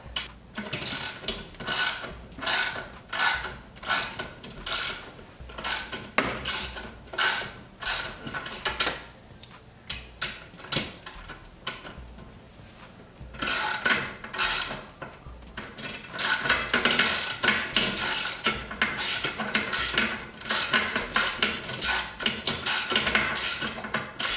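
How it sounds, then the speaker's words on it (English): Ratchet wrench turning a threaded rod against two locked nuts on DIY garage shelving, giving repeated close, sharp clicking bursts in uneven strokes with short pauses between, alone without talk. "So I'll lock those 2. Now this upper one won't allow the lower one to proceed up the thread, and instead we'll turn the rod."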